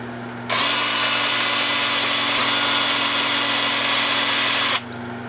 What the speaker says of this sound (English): I'm going to start the sanding with my 2-inch sanding disc, 150 grit